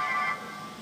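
A brief mobile phone notification tone, a bright electronic chime that sounds for about a third of a second and then fades, alone and fairly quiet.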